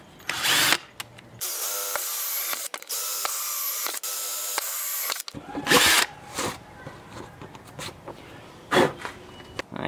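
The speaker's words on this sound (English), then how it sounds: "Got one and a quarter inch hole saw here. Just gonna do three holes in the top." A power drill fitted with a one and a quarter inch hole saw cuts into a plastic bin lid, whining loudly in steady bursts with brief pauses and clattering handling noises between holes.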